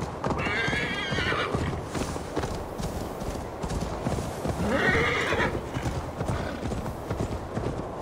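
In Assassin's Creed Valhalla, a horse gallops with fast, rhythmic hoofbeats and lets out two shrill neighs, close and loud, while a voice talks over the action.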